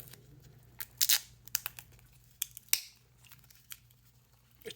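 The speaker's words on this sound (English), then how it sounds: "So I'm just going to try some duct tape." Standard duct tape crackles and rips in a few quick, sharp bursts of tearing and crinkling, close by but fairly quiet, with pauses between pulls.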